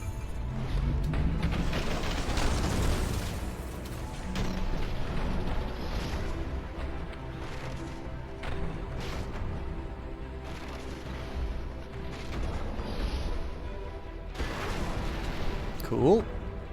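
Explosions and gunfire in the mech strategy game Phantom Brigade: a steady barrage of booms and rapid shots rumbling continuously for the whole stretch, with a sharper blast near the end.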